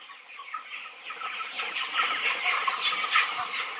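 A flock of broiler chickens on a poultry farm clucks and chatters continuously, a busy overlapping murmur of many birds at moderate distance, growing slightly louder as it goes, with no human voices.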